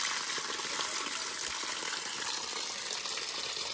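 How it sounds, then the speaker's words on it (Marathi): Water running nonstop from a spring in Chirani village, a steady, even gush of flowing water heard close and alone, with no voices. "कधी थांबत नाही पाणी."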